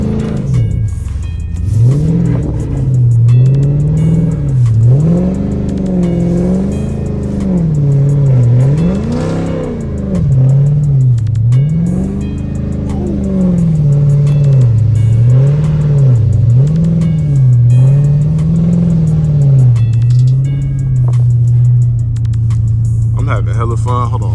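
Dodge Charger SRT V8 engine revving hard in repeated rising and falling surges while the car slides through snowy streets in a blizzard, loud and close, with a voice speaking over it.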